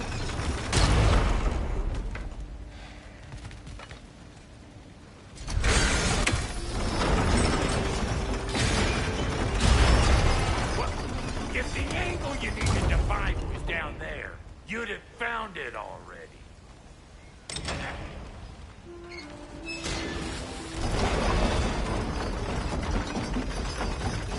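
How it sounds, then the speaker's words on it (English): A heavy gate mechanism grinds and ratchets open in God of War Ragnarök, with creaking gears and clanking pulleys running for a long stretch under game music and a voice talking. "Well, that got the gate open"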